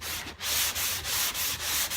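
Car bodywork being hand-sanded with 150 grit sandpaper while blocking out filler, a close, loud rasping rub in even back-and-forth strokes, about six passes with short breaks between, no voices.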